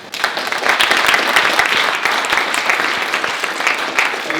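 An audience at an honored alumni lecture breaks into loud, continuous applause, dense clapping filling the hall steadily from start to finish.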